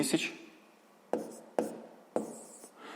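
Pen marks written by hand while working out long division for a sixth-grade maths exercise: a few short, sharp taps and scratches on paper, close and quiet, with no talk over them.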